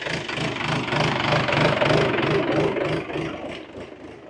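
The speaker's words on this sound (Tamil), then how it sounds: "டிராக்டர் ஒன்று வருது" A chugging tractor engine close by, its rhythmic diesel knock steady and loud before easing off near the end.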